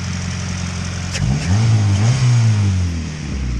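A Honda B20 turbo engine revs up close and loud, with a short high chirp partway through followed by a rising engine whine and a drop back toward idle.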